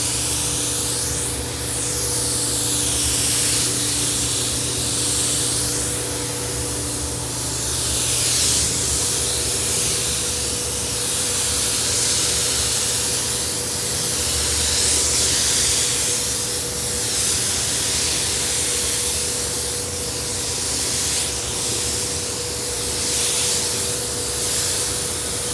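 A spray gun lays pearl white paint onto a Volvo front bumper in a steady, loud, hissing spray, with gentle rises and falls as the passes sweep back and forth over about 25 seconds, and no talk.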